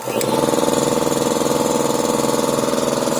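The belt-driven electric motor of a DeWALT DXCM301 air compressor switches on. A click is followed by a loud, steady mechanical drone with a fast, even pulsing throb that carries on without pause.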